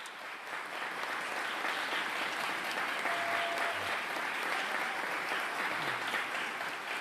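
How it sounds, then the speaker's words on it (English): An audience at a Prime Minister's teaching excellence awards ceremony gives a sustained round of applause for an honoree, an even, full wash of clapping across the whole stretch with a few faint murmurs beneath. "Let's all give another big round of applause for Beth Clark"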